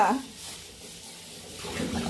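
Tap water runs steadily while bowls are washed at a sink, a moderate, continuous splashing hiss with a brief voice near the start and louder splashing toward the end.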